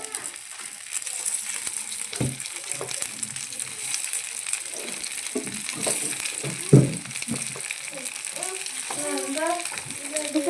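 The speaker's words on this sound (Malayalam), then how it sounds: "ഇനി നമുക്ക് ഫ്രൈ ചെയ്യാം നമ്മൾ ഓരോന്നോരോന്നായിട്ട് എണ്ണയിലേക്ക് ഇട്ടിട്ടുണ്ട്" Coated fish snacks (meenkaayi) frying in hot oil make a steady, close sizzling hiss, with a few louder spatters and soft kitchen knocks and a voice talking underneath.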